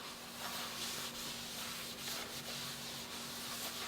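Olive oil rubbed by hand across the bottom of a cast iron pan makes a steady, soft, close scraping and rubbing sound with slight rhythmic swells, alone and without talk.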